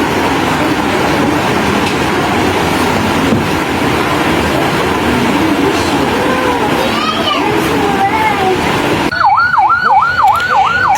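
An ambulance siren wails in a fast repeating up-down pattern, rising out of busy roadside noise and crowd chatter after an earlier fainter siren, carrying a body from the Khoksa upazila health complex in Kushtia.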